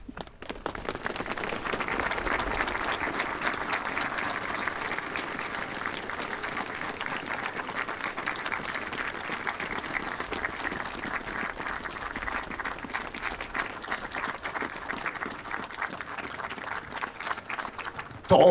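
An audience at a Swedish spring-welcoming celebration applauds continuously for well over fifteen seconds, a steady dense clapping that holds at an even level without voices standing out.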